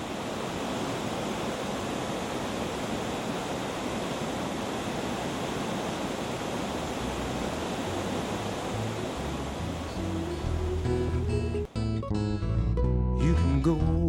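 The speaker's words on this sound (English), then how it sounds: "This spectacular waterfalls seems like it was almost laid out by design to impress" Stockbridge Falls, a waterfall near Munnsville, New York, gives a steady, broad rushing roar of falling water. Other sounds join it toward the end.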